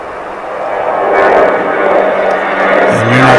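A Delta jet airliner roars close by at DFW International Airport, building in loudness across the few seconds, with a brief voice at the end.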